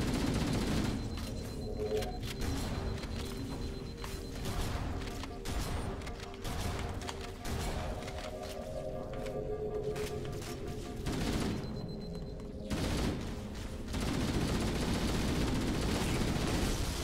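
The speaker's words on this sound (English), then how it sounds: "who's shooting me?" Sustained automatic gunfire in the Halo Master Chief Collection video game, with dense rapid bursts and explosive impacts layered loudly over a continuous battle din, briefly thinning before swelling again near the end.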